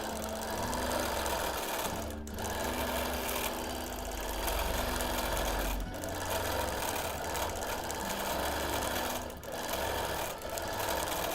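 Sewing machine free-motion quilting a whimsical feather pattern on a wholecloth baby quilt, a steady close hum with rapid needle chatter, pausing briefly three times before running on.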